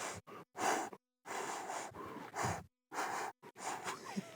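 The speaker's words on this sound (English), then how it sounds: "we're so close we can hear them breathing" African buffalo breathing at very close range on a safari drive, a series of heavy irregular breaths and snorting exhales separated by brief pauses, faint overall.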